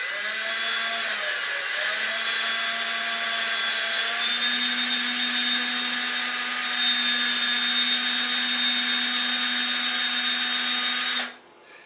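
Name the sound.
hand drill drilling out a pop rivet head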